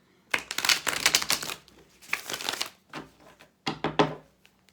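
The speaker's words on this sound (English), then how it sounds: "Let me give it a shuffle." A Deviant Moon tarot deck being shuffled by hand, with several bursts of riffling, crisp card flutter, close and fairly loud, separated by short pauses.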